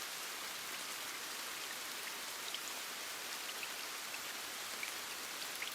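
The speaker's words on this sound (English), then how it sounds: "Listen one last time to the steady, unhurried rhythm of the midnight rain falling outside in the dark." Steady rain falls outside at midnight in the dark, an even, unbroken hiss with faint scattered droplet ticks, soft and continuous with no voices.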